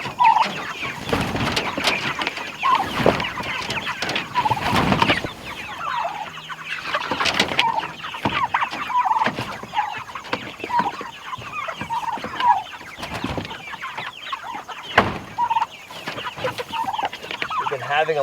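Poultry on a farm, turkeys being raised for meat, give off near-continuous gobbling and clucking calls, a dense chattering flock sound close by with no talk over it.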